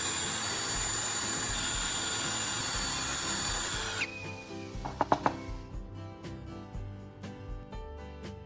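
A power drill whirs loudly and steadily as it bores a hole into a wooden handle, then winds down and stops, followed by a few sharp knocks and clicks.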